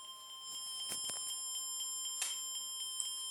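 A homemade motion-detecting burglar alarm prototype sounds a steady, shrill electronic tone that holds for the whole stretch, with a few soft knocks and rustles beneath it and no talk.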